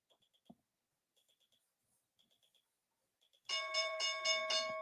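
A stock market opening bell rings out loudly with a bright, sustained metallic tone made of repeated rapid strikes, after several seconds of faint clicking ticks.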